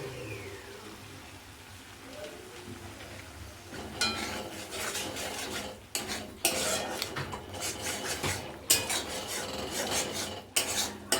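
Scraping and stirring of prawn masala with coconut milk in a pan, an uneven run of rasping utensil strokes that grows louder and busier partway through, with sharp knocks and brief pauses.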